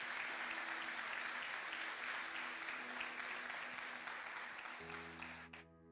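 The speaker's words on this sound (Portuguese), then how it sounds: "Você pode aplaudir a Ele nessa noite, em nome do Senhor" A church congregation applauds steadily and loudly for several seconds, with a sustained keyboard or organ chord underneath, before the clapping trails off and the music is left.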